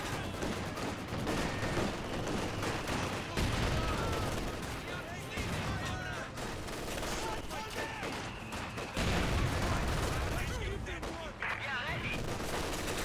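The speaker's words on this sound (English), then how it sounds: "Maxim hitting the MG42" Dense machine-gun fire from a Maxim and an MG42 in the game Company of Heroes 2, rapid overlapping bursts and fusillades with explosions, loud and continuous under a commentator's voice.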